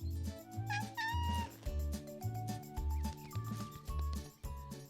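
Cat meowing repeatedly in a rhythmic series of bright, close meows, set against a pulsing low musical backing.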